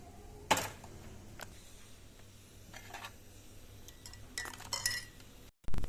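Spoon stirring rice and sago in a pot for a coconut water drink: quiet, scattered metallic clinks and scrapes with gaps between, faint and close.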